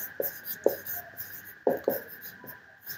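Chalk or marker strokes on a board during an English grammar lesson, a handful of short, sharp scratches in irregular bursts, close and fairly quiet against a faint room hum.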